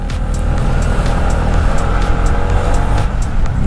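A scooter engine runs steadily at low to mid revs while being ridden on RS8 Scooter Ultra with nano moly technology, giving a continuous dense drone with faint rhythmic ticks, close and loud, with no voices.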